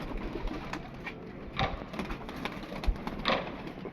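A wild pigeon coos softly several times against quiet background ambience, with a few faint clicks and rustles in between.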